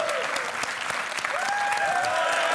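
A crowd at a Clash of Clans Builder Base tournament cheers and applauds in a dense, continuous roar, with whistles or shouted tones rising over the clapping partway through.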